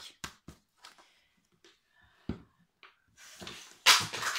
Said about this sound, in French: j'ai fait tomber ma paire de ciseaux par terre